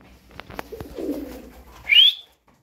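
A pigeon from a flock of Turkish flying birds gives a few soft coos, followed by a brief bright whistle-like call, close and otherwise quiet.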